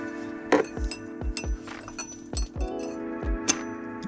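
Metal bolt and clip for a car clinking as they are fitted, several sharp close ticks and rings spread unevenly over a steady hum with no talk.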